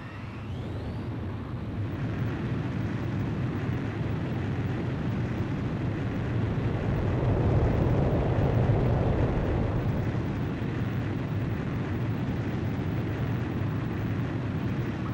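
Fighter jet roaring through its takeoff in Ace Combat 5, a loud continuous broadband engine rumble that builds and swells midway before holding steady, with no talking.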